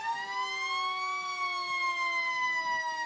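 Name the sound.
ambulance siren in a parade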